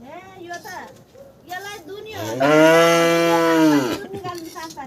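A milking cow gives one long, loud, drawn-out moo lasting about a second and a half, with people talking nearby before and after.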